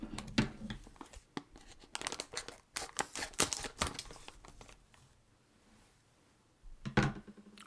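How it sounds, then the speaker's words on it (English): Scissors snip and tear through a bag of Jim Beam bourbon-flavored coffee, a rapid burst of crinkly cutting and rustling close to the mic, fading out before one last crinkle near the end. "I'm going to use some handy dandy scissors."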